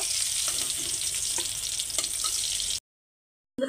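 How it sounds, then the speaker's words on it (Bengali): Rohu fish pieces frying in mustard oil and being turned over in the pan give a steady, loud, close sizzle with a few scrapes. The sizzle cuts out briefly near the end, then resumes. "তো মাছগুলো সুন্দর উল্টিয়ে পাল্টিয়ে ভেজে নিচ্ছি।"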